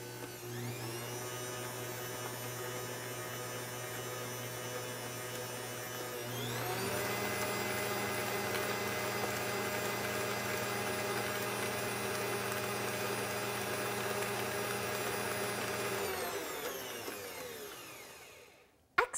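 An electric stand mixer whisks chocolate mocha cake batter with a steady motor whine, stepping up to a higher speed partway through, running evenly, then spinning down to a stop near the end.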